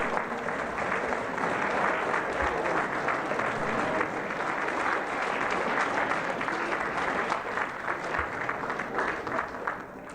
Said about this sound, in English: Let's stand up and give everybody a round of applause and look around